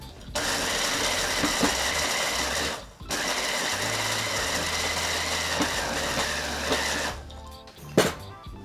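A small food processor grinds graham crackers into crumbs for a cheesecake crust, a steady loud whirring motor running in two long bursts with a brief pause between and a clatter near the end.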